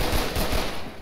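Frag rounds fired in the video game Left 4 Dead 2, making a dense, loud burst of rapid gunfire packed into about a second, with no talk over it.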